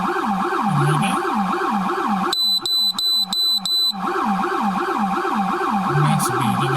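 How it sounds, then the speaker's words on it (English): A loud wailing emergency siren cycles steadily up and down, broken midway by a burst of rapid, piercing electronic yelp tones before the steady wail returns, close and continuous with no talk. "I hear like the police sirens in the back"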